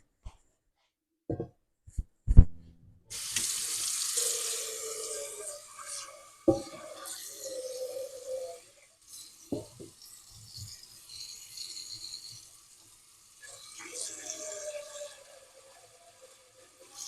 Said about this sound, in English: let's go ahead and add some water in here